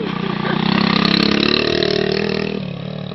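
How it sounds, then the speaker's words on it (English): A small mini trail bike engine runs steadily close by, a buzzing, pulsing idle that holds level for a few seconds before easing slightly. "It's a little mini trail bike thing."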